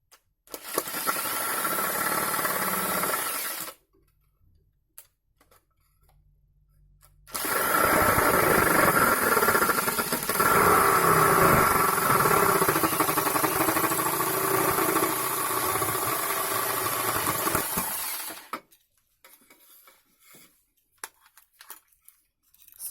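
A saw cuts through a plastic box for a Bluetooth headphone project, giving loud, steady rasping in two long bursts separated by a short pause, with no talk.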